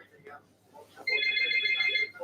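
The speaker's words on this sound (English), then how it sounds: "Oh, the phone's ringing." A telephone starts ringing loudly and steadily partway through, a bright electronic trill over quieter talk and a rugby semi-final playing on television in the room.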